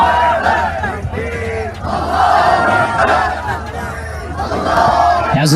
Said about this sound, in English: Thousands of people cheering.